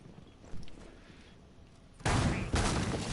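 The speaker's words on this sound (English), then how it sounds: "We hear the sound of that Ella shotgun rattle" Ela's shotgun in Rainbow Six Siege fires in rapid rattling bursts, faint at first and then two loud close volleys near the end.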